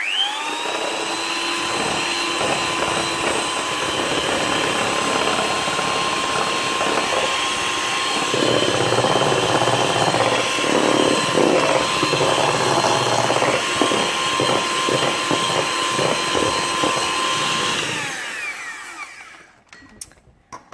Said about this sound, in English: now I'm going to whisk and then add the other one and then whisk after that